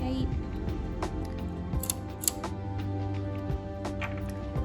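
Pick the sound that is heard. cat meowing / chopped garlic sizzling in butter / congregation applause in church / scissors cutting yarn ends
scissors cutting yarn ends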